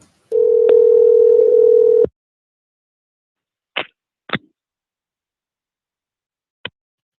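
A telephone dial tone sounds loud and steady for under two seconds and cuts off, followed by three short separate tones spaced out over several seconds, close and clean with silence between.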